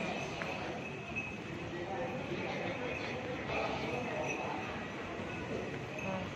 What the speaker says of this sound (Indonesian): Nah sudah datang nih kereta apinya.